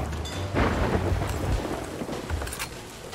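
Thunderstorm in the pirate video game Sea of Thieves: rolling thunder rumbles and sharp cracks over steady rain hiss, loud and close, with no speech.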